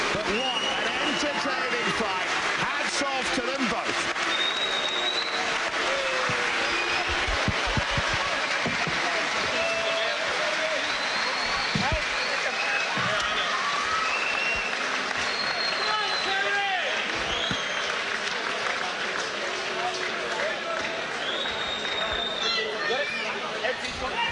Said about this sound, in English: we'll leave it to the crowd to give them the cheer they deserve